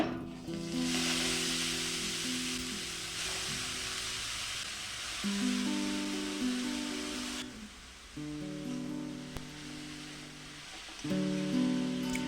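Chopped kalai greens hit a pan of cumin powder frying in oil and give off a steady, fairly quiet sizzle with a rain-like hiss. Melodic background music plays throughout.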